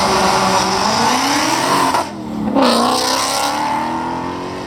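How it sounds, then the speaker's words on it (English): A Clive Sutton CS850R supercar, a UK-built Shelby GT500-based machine, roars up a hill climb, loud engine revving hard with a brief dip as it shifts, then climbing again as it passes close by. "Luke is driving the Clive Sutton CS850R."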